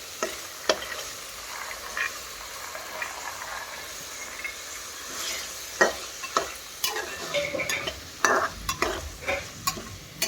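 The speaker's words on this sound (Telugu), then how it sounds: "ఇందులో మనము ముందుగా పెట్టుకున్న ముందు రోజు నైటే నానబెట్టి పెట్టుకున్న బఠానీల్ని వేసుకోవాలన్నమాట." Soaked dried peas tossed into a hot pan and stirred while they fry, giving a steady soft sizzle with intermittent scraping and clicking stirs, close and moderately quiet with no talking.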